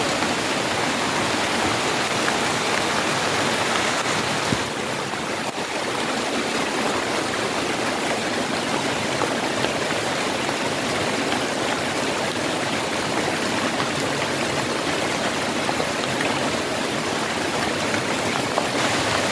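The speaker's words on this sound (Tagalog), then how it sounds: "Grabe, ulan dito mga tol, no?" Heavy rain pours outdoors in a steady, dense, unbroken hiss that stays loud and even for the whole stretch, with no voices over it.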